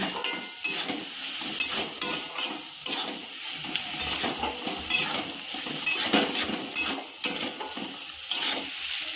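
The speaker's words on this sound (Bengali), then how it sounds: "দিয়ে ভালো করে আমি আবারও নেড়ে নিচ্ছি।" A spoon stirring a katla fish filling for fish fingers in a pan, with repeated scraping and clinking strokes over a soft sizzle, close and moderately loud without speech.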